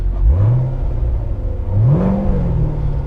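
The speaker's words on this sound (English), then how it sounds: "And it does change the exhaust valve sound as well." A 2016 Chevrolet Corvette Stingray Z51 V8 in touring mode revs twice in quick succession, the exhaust note rising sharply each time before settling into a deep, loud idle rumble.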